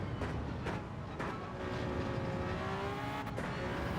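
A Toyota GR1 hypercar races at Watkins Glen in Gran Turismo 7, a steady, loud engine drone with rising whine and brief tire squeals, no talk.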